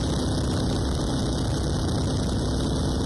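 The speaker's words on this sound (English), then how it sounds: "they have radial engines up front, big circular engines, and those engines make a very distinctive noise" Radial engine of a de Havilland Tiger Moth biplane running steadily with a continuous, even drone throughout, no voices present.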